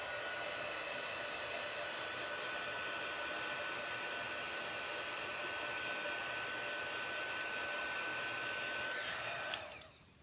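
A hair dryer blows steadily on watercolour-stamped paper, a loud, continuous airy whir held for about nine seconds before it cuts off abruptly near the end.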